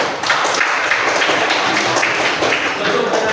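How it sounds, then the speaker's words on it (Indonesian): A classroom full of students applauds after a student's speech at school, a dense, steady wash of clapping that carries on without a break for the few seconds heard. "Tepuk tangan."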